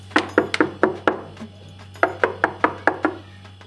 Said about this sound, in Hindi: एक दिन प्रतापगढ़ के राजा प्रताप सिंह के महल का द्वार किसी ने खटखटाया।